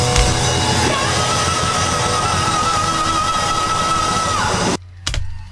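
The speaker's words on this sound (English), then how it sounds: "I decided to scream right at the end as a good way to end literally on a high note." A loud rock band plays to the end of a song while a high, sustained scream holds over the music before everything cuts off abruptly.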